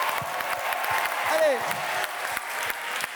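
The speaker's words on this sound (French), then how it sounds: "Applaudissez-la, s'il vous plaît" A studio audience applauds a singer after her battle on The Voice Afrique Francophone. The clapping is loud, dense and steady throughout, with a host's voice calling out over it.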